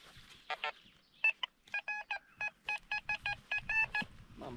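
A metal detector sweeps over a buried target on a beach, giving about a dozen short, bright electronic beeps in a quick, fairly even rhythm, loud and close, with a faint lower tone and a little background noise.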